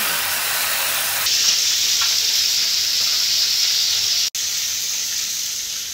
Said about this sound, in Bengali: মুরগি আমি আর কি বেশি ভাজবো না, হালকা করে এপিট ওপিট ভেজে নিব।